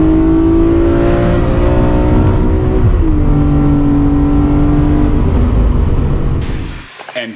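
The engine of a BMW E46 M3 CSL with SMG gearbox and a slipping clutch drones loud and close, its pitch shifting slightly as it holds revs, then cuts off abruptly near the end.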